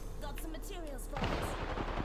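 Gunfire in an online shooter video game, rapid bursts of shots and impacts that thicken into a dense barrage halfway through, with a voice talking faintly underneath.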